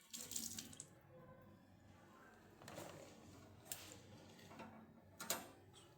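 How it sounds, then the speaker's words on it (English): Running tap water rinses a Gram-stained microscope slide at a lab sink, a quiet, steady wash broken by several short, sharper bursts of flow. "You rinse with running tap water."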